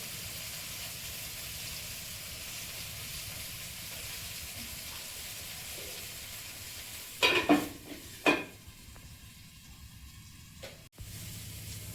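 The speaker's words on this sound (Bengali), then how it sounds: "ভেন্ডিটা ভাজা হচ্ছে।" Okra (bhindi) fries in a pan with salt, chili powder and turmeric, a faint steady sizzle with a couple of short louder stirring bursts near the end.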